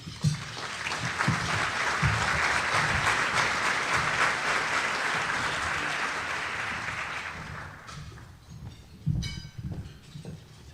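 An audience at a Chicago CFA Society event applauds to welcome economist Charles Evans, with steady sustained clapping for about eight seconds before it tapers off and some thumps and shuffling sounds follow.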